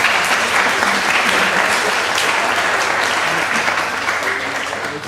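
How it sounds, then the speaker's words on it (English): Sustained audience applause at the close of a public forum talk, loud, dense clapping from a large crowd that continues steadily throughout. "Can we give another round of applause to all of them?"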